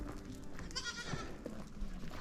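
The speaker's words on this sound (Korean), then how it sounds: "아기 염소가 마지막에 쫓아가네요" A herd of goats with a baby goat trailing behind on the Annapurna Circuit near Manang, Nepal, bleating briefly at moderate distance over outdoor background noise.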